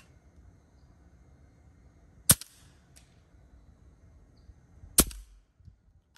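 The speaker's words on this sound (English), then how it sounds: "We're gonna take another couple of shots downrange just so you guys can see the variables on there" Two crisp, fairly quiet cracks from a Leshiy 2 air rifle fitted with a shroud kit, fired downrange a few seconds apart against near silence, each with a short metallic tail.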